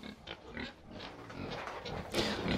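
Several pigs on a pig farm grunt and snort in overlapping bursts, close and moderately loud, with no one speaking.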